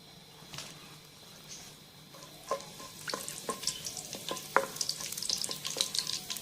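Green cardamom, cloves, fennel seeds and a cinnamon stick hit hot oil in a pot, crackling and sizzling with scattered pops and stirring clinks that grow busier and denser toward the end.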